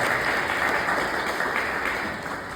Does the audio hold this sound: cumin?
no